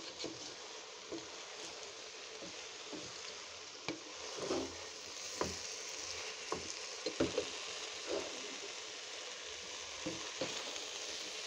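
Bitter gourd and new potatoes fry in a pan with a soft, steady sizzle, broken by occasional scrapes and taps of a stirring utensil, fairly quiet and close.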